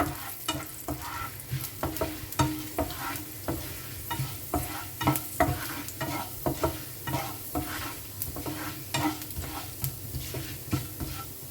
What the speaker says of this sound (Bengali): দিলাম একটু ছোলার ডাল আর দিয়ে দিলাম একটু বিউলির ডাল বা উড়ার ডাল এই দুটোকে ভেজে নেব